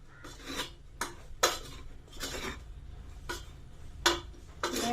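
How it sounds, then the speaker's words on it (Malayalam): Chicken curry masala is stirred in a pan with a spoon, making about eight separate scraping strokes in an irregular rhythm, close and fairly quiet against a low background, with no voices. "ഇത് എല്ലാത്തിൻ്റെയും പച്ചമണം മാറുന്നോടം വരെ ഒന്ന് ഇളക്കി കൊടുക്കണം കേട്ടോ."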